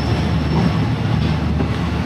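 A sleeper train in Thailand rolls along with its doors open, a loud, steady, close rumble of wheels and carriage noise, with no voices.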